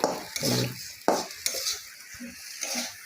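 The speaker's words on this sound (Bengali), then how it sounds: "এই যে রান্না করছি মাছটা নামাই দিচ্ছি অনেক তেল বেশি হয়েছে" Fish frying in plenty of oil with chili and turmeric: close-up clinks and scraping stirs against a pan over a soft sizzle, in short uneven bursts with no talking.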